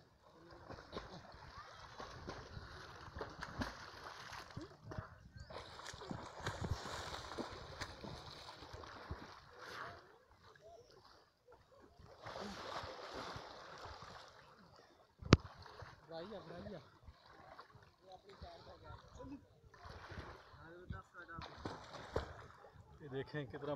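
Water of the Jhelum River rushing and splashing where people bathe, bursts of turbulent wash rising and falling over about twenty seconds, with occasional sharper splashes and voices nearby.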